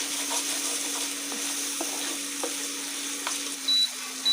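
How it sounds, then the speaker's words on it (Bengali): Spice masala frying on low heat with tomato paste and onion for a tel koi fish curry: a steady close sizzle with occasional faint spoon scrapes and a brief beep near the end, no talking. "দিয়ে আবারও মশলার মধ্যে ভালোভাবে কষিয়ে নেব।"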